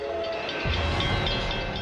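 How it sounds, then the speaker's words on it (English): A 350-ton locomotive's warning whistle blares continuously, loud and sustained, with the rumble of the passing train growing heavier partway through. "doesn't hear the warning whistle blaring"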